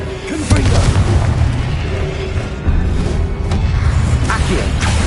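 Confringo blasting curse explosions in the video game Hogwarts Legacy, heavy booming blasts with low rumble and crackling bursts, loud and close, one hitting early and another midway over continuous battle noise.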